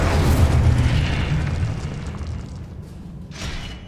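An Incendio fire spell is cast in the Hogwarts Legacy video game, a deep booming whoosh of flame that hits hard at once, then rumbles and fades over a few seconds with a faint flare near the end.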